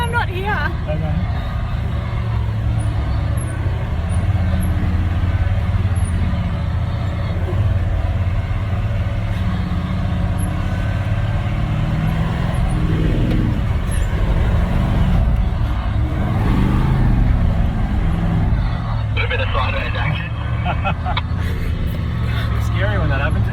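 Car driving at steady speed, a constant low engine and road rumble running throughout, with people talking inside the cabin over it.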